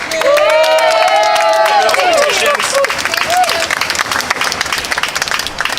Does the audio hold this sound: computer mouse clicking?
no